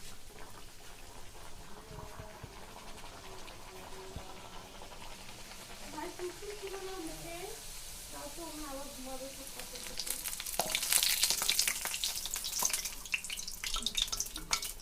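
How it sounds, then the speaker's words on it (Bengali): Sago paratha in hot oil, with a faint steady sizzle and a brief voice in the middle, then a louder hissing burst of frying near the end. "তেল গরম হয়ে গেছে, এবার দিয়ে দেবো সাবুর পরোটা"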